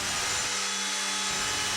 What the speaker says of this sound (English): use the router to put a 45 on the inside edge